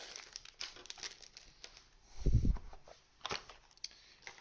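A z/x trading card booster pack wrapper being torn open close by, quiet crinkling and crackling of foil with one louder crunch midway and scattered rustles around it.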